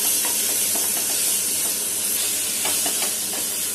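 Chicken keema fries and sizzles in a pan with tomato puree, a loud, dense hiss of frying broken by rhythmic scraping as the mince is stirred, close and continuous throughout.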